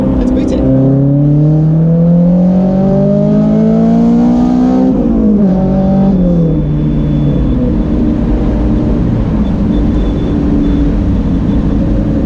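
A car accelerates hard along a national speed limit country road between Dorset and Somerset, its engine note climbing steadily through the gears with a brief drop at a shift, loud and close from inside the cabin.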